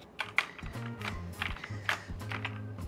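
Cleaning slime is pressed and tapped onto a computer keyboard, making soft irregular taps and light clicks at moderate distance, with quiet sound in the background.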